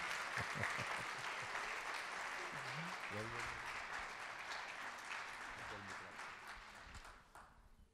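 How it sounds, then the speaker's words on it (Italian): Steady applause from a church congregation in Italy welcoming a speaker, a continuous wash of clapping at moderate distance with voices audible beneath it, fading slightly toward the end. "vorrei che accogliessimo con un applauso sorgentino il dottor Savino Bonfanti"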